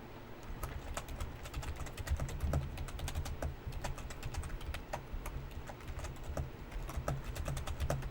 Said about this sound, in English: So I'm just typing these for chat.